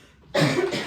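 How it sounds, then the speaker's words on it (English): A single sharp, close cough bursts out after a near-silent moment, followed by a raspy, breathy tail, from a person who has been fighting a month-long cough. "I've been trying to get over this cough for a month."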